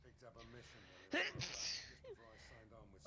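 A single sharp, loud sneeze bursts out in the middle of a spoken exchange between characters, with conversation continuing before and after it.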